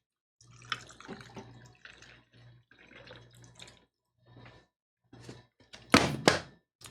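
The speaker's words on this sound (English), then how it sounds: "We want some of that motion to go over the ice, melt some of the ice, and go from there." A drink is poured over ice in a glass, with soft liquid splashes and clinks in scattered bursts, ending in a louder close splash.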